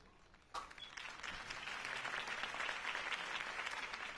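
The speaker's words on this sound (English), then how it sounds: "If only Mr. Wayne, my campaign's largest backer, could have heard that applause" Crowd applause following a campaign speech by Harvey Dent in a Telltale Batman video game; after a brief quiet moment the clapping bursts in abruptly and carries on as a steady, full roar of many hands.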